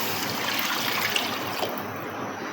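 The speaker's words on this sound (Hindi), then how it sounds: "ये एक जग में तकरीबन 1 किलो पानी है," About a litre of water poured from a jug onto beef in a home kitchen, a steady close splashing and trickling pour that stays even throughout.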